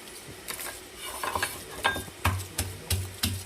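Crushed garlic hits hot oil for tempering in a home-made mint roti pachadi, sizzling under sharp intermittent clinks of stirring.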